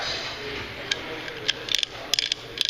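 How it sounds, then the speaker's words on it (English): A hand pipe-threading drop head die is ratcheted, giving sharp metallic clicks in irregular bursts over a steady background hiss, close up with no talk. "and now will be ratcheted on and then ratcheted off"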